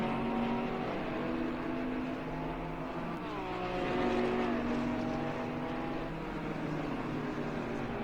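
Porsche race car in a racing video game on Kyalami's front stretch, a steady loud engine whine held at high revs with pitch shifts as it accelerates, continuous and close.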